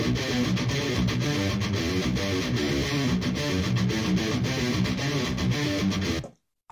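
Layered distorted guitar tracks from a metal mix play together as a thick, continuous wall of fast palm-muted riffing with rhythmic accents, cutting off sharply near the end.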